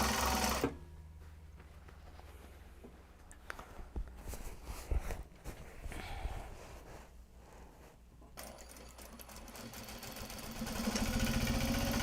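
A sewing machine stitching Japanese fabric for a tote bag gives a close, steady mechanical whir with rapid needle chatter. The run is broken by short stops, and a louder burst of stitching comes at the end.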